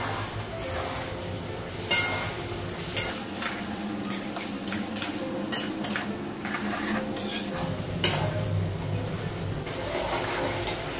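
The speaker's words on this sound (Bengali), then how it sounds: "মশলাটা একটু ভেজে দেবো" Spice paste loosened with water frying in a pan, a continuous sizzle with repeated scraping stirs and light metallic clinks, close and fairly loud throughout.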